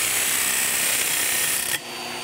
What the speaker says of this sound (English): So I'm going to go over here to the disc sander and take the rough edges off this piece of copper.